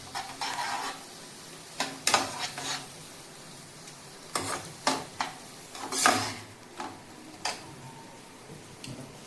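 Carrot and green chili fry in a pan for paneer vegetable fried rice. Close, irregular scraping stir strokes come in bursts over a faint, quiet sizzle.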